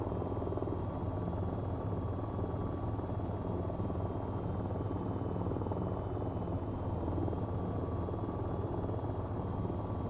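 A VTOL aircraft hovers in the flight game VTOL VR, giving off a steady, loud, rumbling rotor drone with a faint high whine running through it. The drone is constant and unbroken, with no talk.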